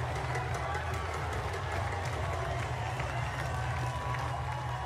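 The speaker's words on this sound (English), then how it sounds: "Brent Fleck just sent this crowd into a frenzy" Crowd at an NCAA Division I men's lacrosse championship first-round game between Princeton and Penn State roars after a goal, a dense, steady wall of cheering and noise that stays loud throughout with no clear breaks.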